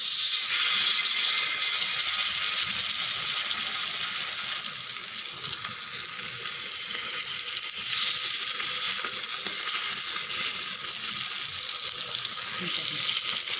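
Pieces of bat fish fry in oil in a pan with a steady, loud bright sizzle that crackles continuously throughout.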